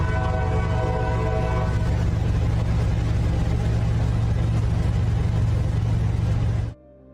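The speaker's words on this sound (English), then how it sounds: "you can hear the train coming down the tracks towards them" A loud, steady rumble of a train rolling along the tracks, with a horn-like tone early on, cutting off abruptly near the end.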